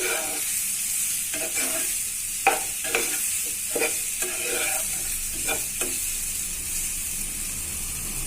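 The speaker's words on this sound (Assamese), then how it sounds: "ভালদৰে ভাজি লম এইখিনি" Chicken masala with Maggi seasoning fries in a pan while a spoon stirs it, with a steady close sizzle and a series of sharp scraping strokes across the middle of the clip, no voices.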